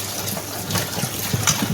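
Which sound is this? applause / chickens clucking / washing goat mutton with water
washing goat mutton with water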